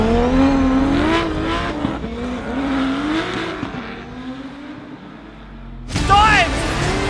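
Drift cars charge door to door into the first turn at a Drift Masters event, engines roaring and tires squealing in long wavering tones, loud and close, under excited commentary, with a sharp renewed squeal near the end.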